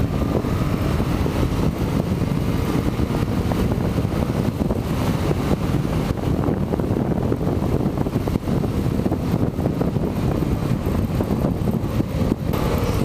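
Yamaha MT-07 naked motorcycle accelerating in fourth gear to overtake, engine drone steady and loud under heavy wind buffeting on an open bike with no screen, no talk.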